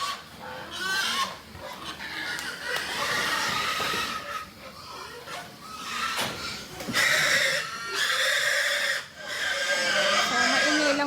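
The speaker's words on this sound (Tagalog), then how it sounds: "So, maingay lang po yung baboy." Loud, shrill squeals and grunts from pigs in a pen pile up over a noisy background, sustained cries rising and falling throughout with a few brief lulls.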